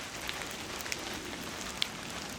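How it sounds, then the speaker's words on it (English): Light rain falls at a trail shelter on the Appalachian Trail near Manassas Gap, a faint steady hiss with a few sharp raindrop taps, no voices. "Picking up some raindrops here, hope it doesn't hit the camera."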